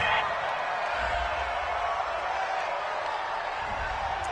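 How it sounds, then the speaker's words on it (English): A home stadium crowd in the Madden 20 football video game roars in a steady, loud wash of cheering that holds unbroken throughout, with no talk over it. "This home crowd, they're happy with that call."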